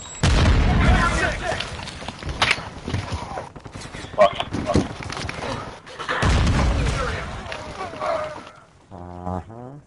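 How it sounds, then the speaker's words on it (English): A Semtex grenade explodes in a first-person shooter, giving deep heavy booms and rumbling blasts mixed with gunfire across several seconds, while players talk over the action. "Semtex incoming!"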